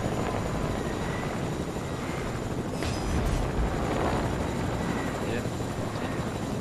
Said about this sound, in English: Oh my gosh, there's another helicopter!